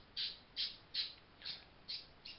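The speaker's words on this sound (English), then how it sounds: "Your bird is very vocal when it wants to be" A pet bird squawks in six sharp, shrill bursts evenly spaced about half a second apart, loud and close, with no voices over it.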